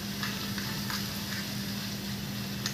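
Garlic sizzles steadily in hot oil as chili powder is stirred in for a dhaba-style dal tadka. The frying hiss is continuous and close, with a faint low hum beneath it and no talking.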